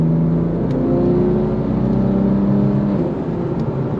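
BMW M4 with a titanium exhaust pulling hard through fifth into sixth gear, a deep, steady engine drone heard from inside the car with rising tones and a brief shift near the end.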